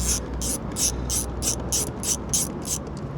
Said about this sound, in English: Undo them 4 bolts if you've got them, or in my case 2 bolts.